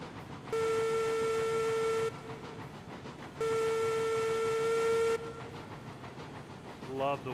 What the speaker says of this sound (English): Love the whistle sound on this thing.